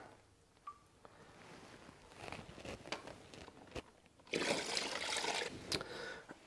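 Water poured into a plastic bag for transporting live fish, a soft trickle building to a louder, steady splashing pour in the second half, close by.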